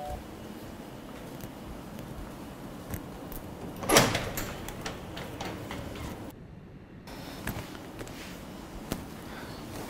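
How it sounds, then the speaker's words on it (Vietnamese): A door is opened indoors, heard as one brief rattling slide and clack midway through a quiet room tone, with faint shuffling around it. "Con ra mở cửa."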